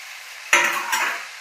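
A spiced mixture is stirred in a pan over rolled patra: two quick scraping swishes rise over a soft, steady sizzle.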